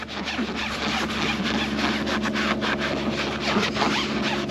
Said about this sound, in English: We're going to go ahead and put this on our applicator and just rub it in the tire.